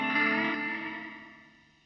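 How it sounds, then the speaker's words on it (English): A clean electric guitar chord rings through an EarthQuaker Devices Afterneath reverb pedal set to its shortest decay, shimmering briefly before fading smoothly away within two seconds, alone with no talk. "The length controls the decay time of the reverb. Fully counterclockwise, it's at its shortest."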